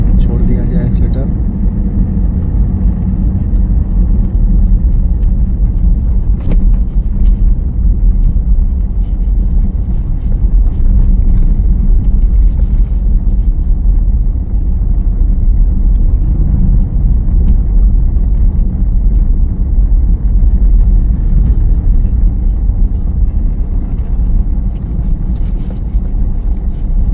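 Learner driver's car engine hums low and steady while easing off the accelerator during a driving lesson, a continuous rumble throughout with an instructor talking over it.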